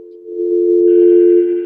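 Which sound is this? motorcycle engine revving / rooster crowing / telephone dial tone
telephone dial tone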